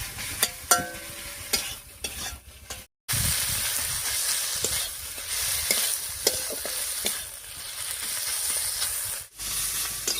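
Onion, garlic and chili fry in a pan for a dried-fish dish, a close, steady sizzle broken by repeated scraping and clattering stirs and one brief pause.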